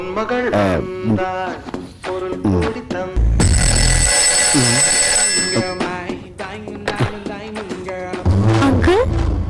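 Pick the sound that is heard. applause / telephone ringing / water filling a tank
telephone ringing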